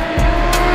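A modified BMW M car roars loudly on a race track in a brief, close burst of engine noise with a hint of passing motion.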